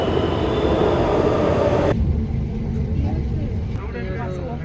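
A crowded metro train rumbles steadily as it rides, with a loud, dense roar that eases a little partway through, and voices talk over it.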